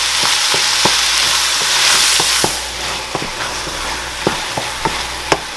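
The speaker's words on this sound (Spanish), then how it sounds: "Y vamos a dejar que se fría bien el tomate y la carne." Ground beef and tomato frying in a pan, a loud, close, steady hiss of sizzling fat with sharp spitting pops and stirring clicks scattered irregularly throughout.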